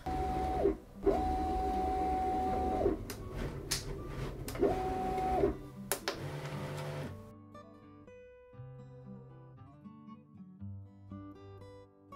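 A cutting machine runs a cut with steady motor whirring and repeated rising and falling electronic tones, settling after about seven seconds into softer, stepped mechanical movements and faint beeps.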